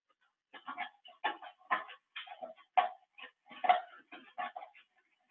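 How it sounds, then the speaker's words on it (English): A sleeping dog acting out a dream in REM sleep gives a run of short, muffled yips, woofs and whimpers in quick irregular bursts, close by and otherwise quiet. "Here's a dog with a dream enactment behavior"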